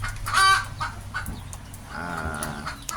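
Upgraded native chickens crossed with Rhode Island Red cluck inside a brooder. A sharp, loud squawk comes early, followed by softer overlapping clucks and a drawn-out call near the end.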